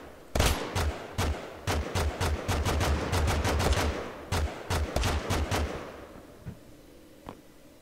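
Bursts of automatic gunfire in Totally Accurate Battlegrounds, sharp close shots in quick rhythmic clusters over several seconds, thinning out to a couple of isolated distant pops at the end.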